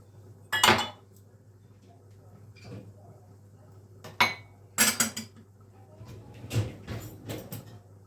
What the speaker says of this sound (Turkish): bulaşık makinesini boşaltıyorum.